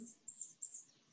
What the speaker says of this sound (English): No, that's birds outside my studio.